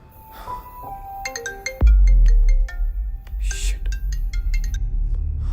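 A mobile phone ringtone plays late at night at 1 a.m., a bright repeating melody of chirpy tones that starts clear and continues steadily over a sudden deep low rumble.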